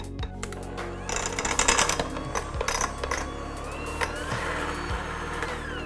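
An electric mixer beats red velvet bundt cake batter of flour, egg and sour cream, giving a steady mechanical whir broken by sharp clicks and knocks against the bowl, with no one talking.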